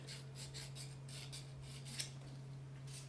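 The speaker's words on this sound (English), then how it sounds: "I'm just gonna intuitively hit the nails a little bit with some 1000 grit" Fingernails being filed with 1000 grit abrasive, making soft, rapid rasping strokes in a steady rhythm over a constant low electrical hum, close and fairly quiet, with no talking.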